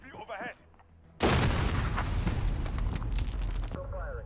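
A loud, sustained explosion in the shooter game Call of Duty: Modern Warfare erupts after brief talk and rumbles for about two and a half seconds before fading as speech returns.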